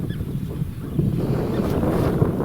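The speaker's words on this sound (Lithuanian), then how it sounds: "Vėjas pučia į nugarą, stiprokas" Strong wind gusts over open water, a dense, steady rushing and buffeting close to the microphone with faint lapping beneath, no voices.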